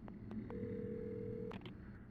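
A few short electronic beeps of a phone keypad being dialed in the video game Alan Wake, then a steady one-second tone, followed by a couple more quick beeps.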